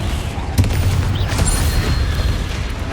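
Confringo blasting spells go off in Hogwarts Legacy gameplay, a rapid string of booming, crackling explosions with sharp bursts, loud and close over a continuous rumble of combat.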